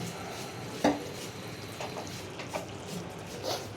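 Hilsa fish frying in a pan for mustard hilsa, turned over with a few distinct scraping clinks of a utensil against the pan above a soft, steady background sizzle.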